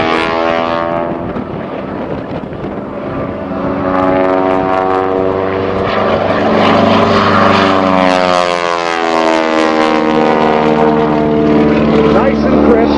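An aerobatic propeller airplane at an air show climbs with a loud, sustained engine drone, its pitch sliding and swelling steadily as the plane gains altitude.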